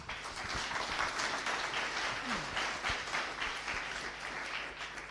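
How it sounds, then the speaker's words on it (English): Audience applause for a presenter at the NixCon 2018 conference talk, a dense steady wash of many hands clapping in a hall for the full stretch, with no talk over it. "Give him a round of applause,"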